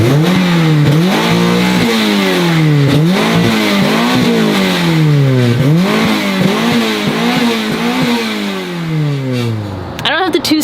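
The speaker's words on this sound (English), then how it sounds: "so I hope you guys enjoyed those revs." A car engine revs repeatedly, rising and falling in pitch several times in quick bursts, loud and close, with a final sharp blip at the end.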